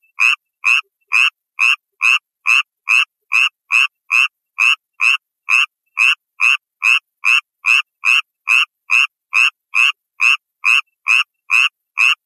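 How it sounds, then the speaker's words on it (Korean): Suwon tree frog calling, a rapid series of about thirty identical short, bright croaks at a steady rhythm, close and clear against silence. "그 수원 청개구리는 일반 청개구리랑 울음소리가 다르다고 그러더라고요."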